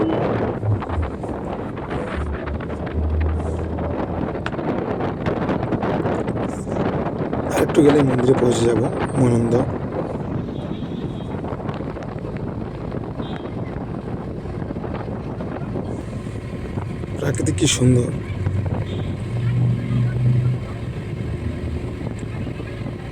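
A boat speeding along the river near Guwahati, with a steady engine drone and heavy wind buffeting the microphone, while a person speaks over the noise at intervals.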